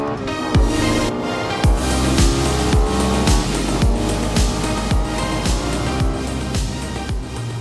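A rare Lexus sports car engine, loud and close, revving in a steady series of sharp throttle blips with rapid rises and cutoffs, each burst followed by a brief drop in roar, continuing throughout.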